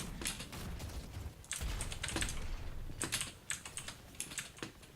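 Rapid typing on a Max Steel G10K Rainbow keyboard fitted with Longhua switches: dense, clacky keystrokes in quick bursts with short pauses, close and loud, without any talk.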